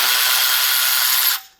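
A ratchet wrench with an E16 socket spins off a front brake caliper bolt on a BMW X5, a loud close rapid clicking burr that cuts off abruptly.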